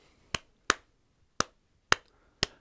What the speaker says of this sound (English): what I always tell people is clap the clave,